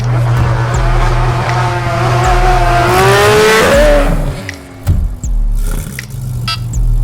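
A car accelerates hard with the throttle floored, its engine note climbing steadily in pitch to a loud peak, then dropping off abruptly with a brief lull before the engine drones on, heard close and loud.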